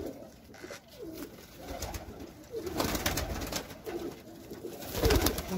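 Sialkoti pigeons coo in low, repeated throaty calls, close by, with soft rustling and wing movement between the phrases.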